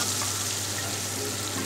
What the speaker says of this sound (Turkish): O yüzden şehriyelerimizi sıvı yağla kavuralım.